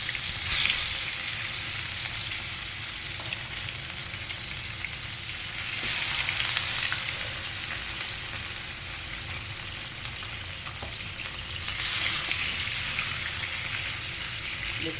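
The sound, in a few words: fish frying in oil in a pan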